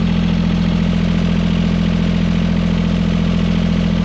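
A John Deere 332 garden tractor engine runs at a steady idle close by, a continuous low throbbing hum with faint clatter and no breaks or voices.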